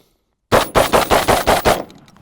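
A semi-automatic 12 gauge shotgun fired rapidly, six loud sharp blasts in quick even succession at close range, ending in a brief fading echo.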